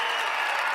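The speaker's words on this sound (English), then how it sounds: "I got the applause in." Burst of applause from an audience, dense steady clapping that stays loud and close for under a second with no voices over it.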